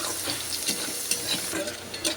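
Bori lentil dumplings frying in hot oil in a pan, with a continuous crackling sizzle and repeated scraping strokes of a spatula stirring them, close and fairly quiet with no voices.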